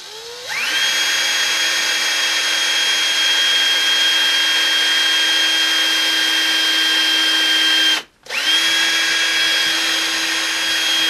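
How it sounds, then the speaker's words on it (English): A power drill pre-drilling a hole whines steadily at high pitch, stops briefly, then spins up again and keeps running, close and loud. "now I'm going to start with one hole, pre-drill it"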